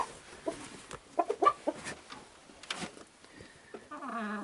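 A Bely Luch hen clucks in a series of short, close calls at uneven intervals, fairly quiet against a calm background, with a brief tonal sound near the end.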